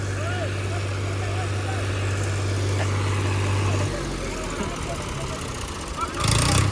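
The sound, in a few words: three tractor engines running while towing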